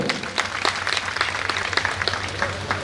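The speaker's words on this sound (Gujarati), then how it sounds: "આપણે સૌ તાળીઓથી વધાવશું." Audience applause welcomes donors at the office opening of the Raghunath temple in Madhapar, a steady dense clapping that fills the room from start to finish with no pauses.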